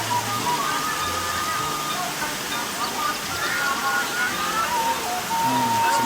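Water rushes continuously at Curug Cikuwulung waterfall in Pamijahan, where two falls meet, a broad steady roar with voices talking over it.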